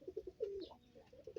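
A fancier's pigeon coos close by: a run of short, low, rounded notes, then a longer drawn-out coo, then more clipped repeated notes. The calls sound clearly over a quiet background, with no speech.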